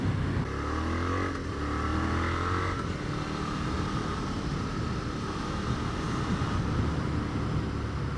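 A 2016 Suzuki SV650 motorcycle leans through corners, its engine a steady droning rumble mixed with heavy wind rush, the pitch shifting briefly early on before settling into a constant roar.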